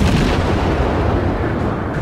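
Naval artillery from World of Warships, a loud dense rumble of shell fire and booming blasts that fills the whole stretch with no pause.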